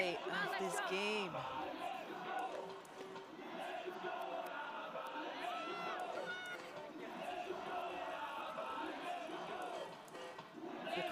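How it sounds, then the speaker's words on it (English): A large crowd at a women's rugby national championship semifinal roars and shouts continuously throughout, loud and energetic, with whoops and yells rising above the din. "The crowd is being loud."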